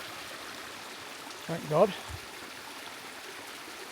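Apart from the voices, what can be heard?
running water of San Cristobal Creek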